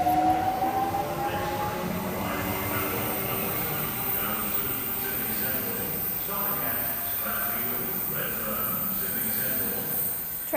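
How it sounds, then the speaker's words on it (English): A Sydney Trains M-set of two four-car units departs a station platform at Olympic Park, a steady rumbling roll with whining motor tones and rail noise lasting throughout at moderate level, with voices faintly underneath. "M-Set now departing platform number 2."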